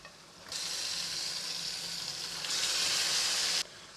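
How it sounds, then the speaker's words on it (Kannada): Marinated chicken dropped into a hot frying pan, setting off a sudden loud, dense sizzle that swells louder partway through and then cuts off abruptly. "ಇವಾಗ ನಾವು ಮ್ಯಾರಿನೇಟ್ ಮಾಡಿರೋವಂಥ ಚಿಕನನ್ನು ಹಾಕೋಬೇಕು"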